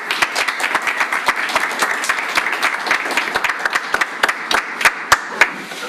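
An audience at a meetup talk applauds a guest speaker, a steady crowd clapping with a few louder individual claps standing out near the front, continuing evenly for several seconds.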